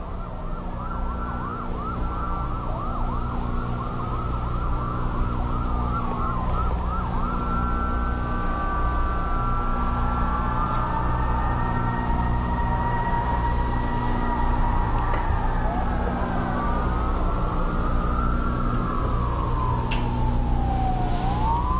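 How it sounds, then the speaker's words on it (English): A wailing emergency siren sounds continuously at a distance, its pitch rising and falling in slow sweeps over a steady low background rumble, with no voices present. "You can hear the siren."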